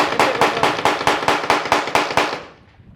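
Rapid string of about nine sharp Glock 42 pistol shots, evenly spaced and loud, fired on the original guide rod, ending with a fading echo and no talk.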